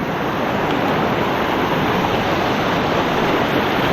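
A river swollen with floodwater from Banahaw rushes past in a loud, continuous, broadband roar heard up close, with no pauses and no voices.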